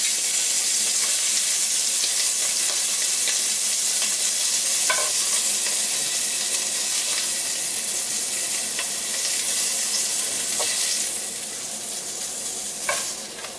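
Shrimp fry in a very hot pan with a loud, dense, unbroken sizzle that eases slightly near the end as they are lifted out, with a few faint clinks and no voices.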